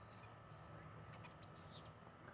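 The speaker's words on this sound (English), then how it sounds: "All the birds are nesting right now, so they're really, really in their bird moods." Nesting birds call outdoors, two or three short, thin, high chirping calls that rise over a quiet background hiss, fairly faint and a little distant.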